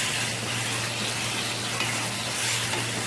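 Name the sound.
frying and stirring in oil in a pan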